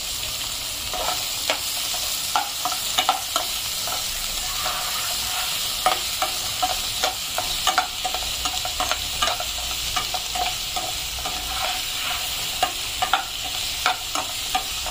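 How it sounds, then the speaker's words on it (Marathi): Two large chopped onions fry in a pan for an okra dish, a continuous sizzle broken by frequent scraping stirs of a spoon, close and steady with no talking. "कांदा आपण काय करूया थोडा गुलाबी व्हायची वाट बघूया।"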